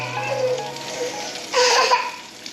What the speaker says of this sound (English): What you hear right now is a 2-year-old in the background